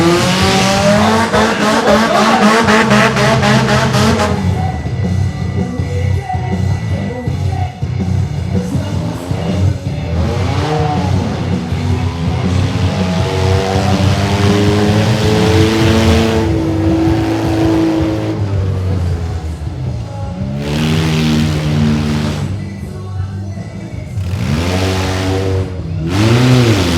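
Mini monster truck engine at a live monster truck show in Frederick, Maryland, revving loudly and continuously, rising and falling in pitch with bursts of throttle throughout.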